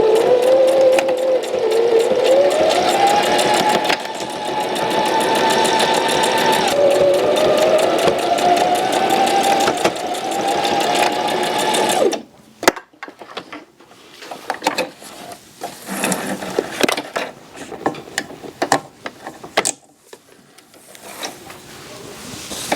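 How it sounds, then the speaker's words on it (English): A sewing machine runs steadily for about twelve seconds, stitching a soft, scented DIY fabric heating pad close to the opening, then stops, leaving scattered handling clicks and rustles. "And you want to sew kind of close to the opening."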